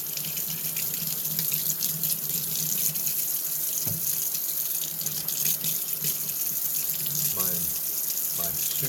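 Running water from a faucet washes a customized Hot Wheels Camaro Z28 die-cast car, a steady close splashing stream with a few brief clinks and faint voice sounds near the end.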